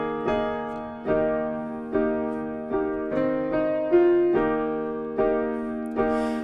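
A piano plays the chord rhythm of a song, with sustained chords restruck in a steady, gently syncopated pattern, close and clear, and no voices.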